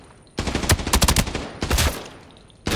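Assault rifle bursts in the shooter game Arena Breakout, loud close automatic fire in two rapid strings of shots, with another burst starting at the end.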